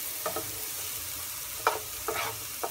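Cremini mushrooms being stirred in a pan give a few quiet scraping, shuffling strokes over a low, faint sizzle, with no talking.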